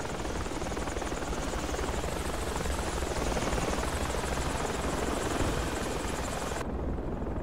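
Helicopter in the military video game Project Reality, a loud, continuous rotor thump and turbine whine that holds close and steady before abruptly cutting off its upper edge near the end.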